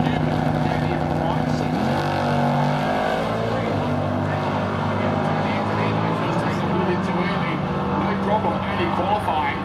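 Drag racers at The Bend, South Australia, an early S-Series Valiant with a 392 small-block Chrysler and a Ford XR Falcon, roar continuously and loudly, engine tones rising and shifting under an announcer's steady commentary.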